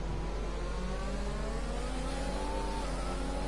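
Formula 1 cars race at Suzuka in the F1 2020 video game, their engines whining steadily at high revs with a slowly rising pitch through a fast corner, a constant close drone.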